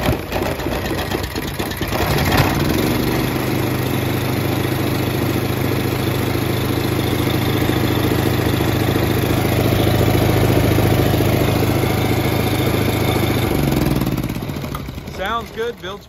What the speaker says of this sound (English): it is set up with a gasoline air compressor. It's got a Honda GX390. Starts right up with our remote start here.